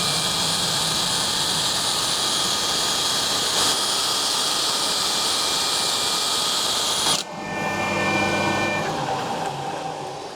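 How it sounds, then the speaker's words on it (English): Loud, steady whir of a power-driven wire brush working a machined steel barbell, droning without a break before the tone shifts and drops slightly near the end. "first what I'm going to do is hit it with a wire brush"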